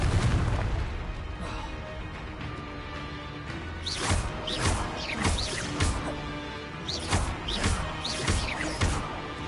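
Confringo blasting spells exploding in the video game Hogwarts Legacy, a run of loud booming crashes and bursts in close succession over a rumbling background.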